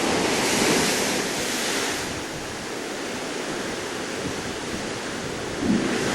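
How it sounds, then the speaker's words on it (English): Ocean waves and surf on the Maui shore wash in as a loud, continuous roar of breaking water, with a slight swell near the end and no voices. "the waves form a little pond and then it cascades back into"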